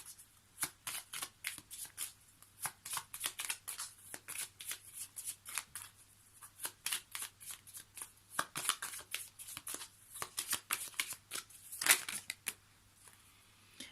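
Tarot cards being shuffled and handled by hand, a rapid run of soft papery riffles and flicks repeating throughout, close and fairly quiet with no talking.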